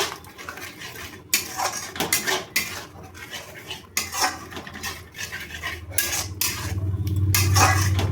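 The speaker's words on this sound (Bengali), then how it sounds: "কাজু বাদাম দিয়ে ভালো করে নাড়তে হবে, নাহলে লেগে যাবে নিচে" Masala with cashew paste is stirred in a pan for chicken bharta, with loud, close spoon scrapes and clanks against metal in irregular bursts over a low sizzle that rises toward the end.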